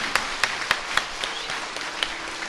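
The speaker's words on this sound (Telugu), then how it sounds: "చప్పట్లు కొడితే బాగా కొట్టండి" Sparse, scattered handclaps from a few audience members at a Telugu spiritual discourse on Vinayaka Chavithi, about eight separate claps spaced roughly evenly over a low background hum.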